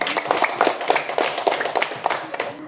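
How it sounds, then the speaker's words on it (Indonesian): A classroom audience claps after a group's presentation, with uneven, fairly loud bursts of hand claps over a few seconds. "Kita beri tepuk tangan."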